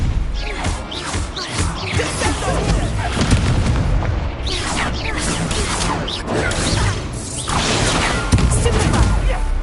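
Stupefy stunning spells fired in a Hogwarts Legacy duel, a dense run of loud booming magical blasts and impacts, close and forceful, with game voices calling out throughout.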